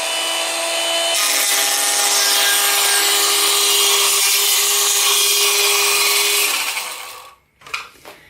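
A Makita HS301DZ 10.8V cordless circular saw cuts through the tongue of a floorboard with a loud, steady whining grind for about seven seconds, then spins down and stops, followed by a couple of faint knocks.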